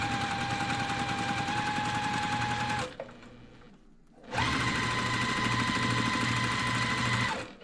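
A sewing machine stitches quilt block pieces in two fast, steady runs of rapid mechanical whirring, close and loud. The runs are split by a brief pause of near quiet.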